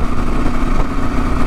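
A Kawasaki KLR Gen 3 motorcycle is heard while riding, giving a steady, loud engine drone mixed with wind rush for a brief moment.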